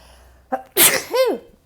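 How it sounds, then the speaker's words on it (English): A single close, sharp sneeze with a short intake of breath before it and a voiced trailing sound after. "pardon me, sneeze"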